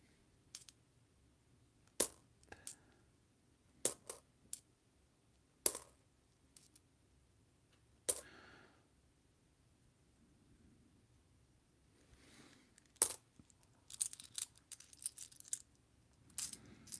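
Copper coins clatter as they are sorted out of a jar, with sharp separate clinks and short rattling bursts spread irregularly across otherwise quiet stretches, and a denser run of small jingles near the end.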